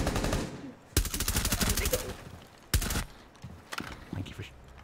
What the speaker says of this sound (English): Thank you for shooting the camera.